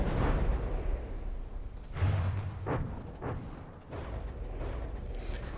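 Cannon shells slam into a warship amid a naval battle in From the Depths, several heavy booms landing over a steady low rumble of engine and sea noise.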